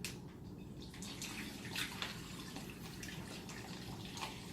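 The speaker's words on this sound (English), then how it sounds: "I'm just going to pour this into the bag." Liquid with ice cubes pours into a plastic bag while preparing a chicken meal, a steady close splashing stream with a few brighter clinks and knocks of ice mixed in, no one talking.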